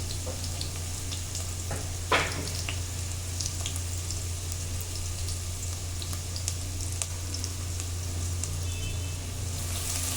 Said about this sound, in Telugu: ఉల్లిపాయ కలర్ చేంజ్ అయ్యే వరకు కూడా వేయించుకోండి